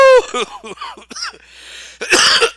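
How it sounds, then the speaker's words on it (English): A single loud cough bursts out at the end, following a run of vocal sounds and a brief lull; nothing else competes with it. "I'm sorry to cough that one"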